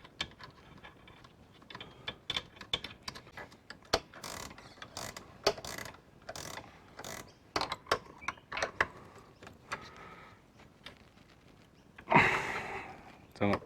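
A retaining nut is tightened by hand on a Ducati ST3 rear suspension: irregular close metallic clicks and ratchet-like ticks, ending in a louder scrape and rustle.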